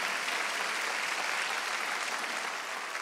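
A church congregation at a Wednesday worship service breaks into a dense, steady wash of clapping that holds at an even level for about three seconds, with no voices over it.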